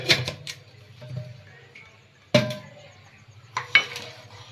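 Ground pea chutney frying in oil in a pan, mostly a quiet low sizzle punctuated by several sharp spatula taps and scrapes against the pan, close and without talk.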